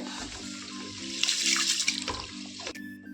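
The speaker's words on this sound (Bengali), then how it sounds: "চালটাকে আগে ধুয়ে নেবো" Rice being washed under running water from a tap in a home kitchen, a steady splashing gush with a hum in the background, rising briefly and then cutting off, close and without talking.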